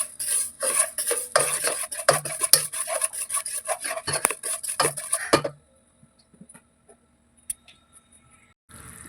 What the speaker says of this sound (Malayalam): നന്നായിട്ട് മെൽറ്റ് ആവുന്നത് വരെ നമുക്കിത് ഇളക്കി കൊടുത്തുകൊണ്ടിരിക്കാം.